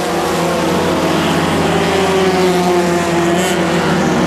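Stock car race cars roar past on the St-Eustache Autodrome track in 1994, a loud continuous engine drone with layered tones that rises slightly in pitch as they pass, heard alone without voices.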